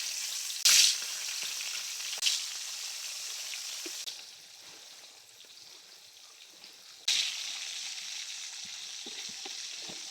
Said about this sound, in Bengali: এখন মাছগুলো আমি গরম তেলের ভিতরে দিয়ে দিব